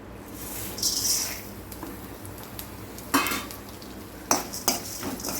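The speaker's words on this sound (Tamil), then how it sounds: "இதை வந்து லைட்டாக எண்ணெய் ஊற்றி பொன்னிறமாக வறுத்துக்கலாம்" Coriander seeds and dried red chillies roast in a little oil in a pot, giving a soft sizzle under several sharp scraping stirs and metal clinks at irregular intervals, with no talking.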